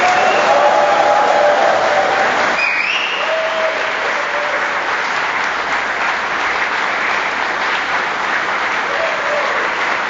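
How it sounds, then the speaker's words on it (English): Audience applause rises as a standing crowd honors a captain at a retirement ceremony: dense, loud clapping from many hands, steady and close, with brief tonal sounds breaking through early on. "can I get everybody to stand up and give this guy a round of applause?"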